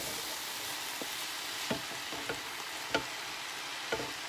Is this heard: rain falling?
no